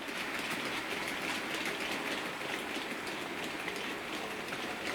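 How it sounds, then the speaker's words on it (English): A model Class 70 locomotive running over tight Setrack curved points, giving a steady, hissing mechanical whir with faint rhythmic clicks, constant in level and fairly close, no voices. "I'm going to show this class 70 going over the points"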